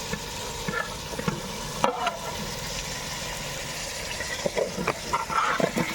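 Mutton, chicken and prawns in a biryani pot being stirred, a soft continuous sizzle broken by scraping clinks and rustles of the spoon, close and moderately quiet.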